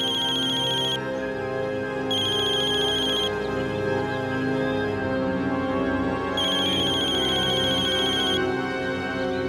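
A mobile phone ringtone rings loudly and alone, a repeating electronic melody with short bright tones that recur in bursts over several seconds.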